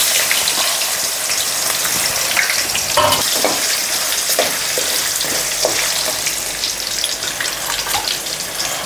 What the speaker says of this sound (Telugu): ఇప్పుడు ఒక 2 ఆలుగడ్డలు, అవి కూడా నూనెలో కొంచెం గోలాలి కొద్దిగా అంతనే.